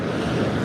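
Wind blowing across the sea during kayak fishing. A brief, steady rushing roar buffets the microphone, with the wash of waves mixed in, close and fairly loud, without speech.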